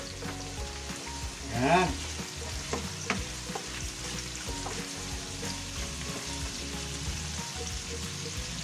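Pork with spring onion frying in a pan, stirred with a utensil, giving a steady sizzle under scraping strokes, with one louder stir burst early on and a brief spoken word.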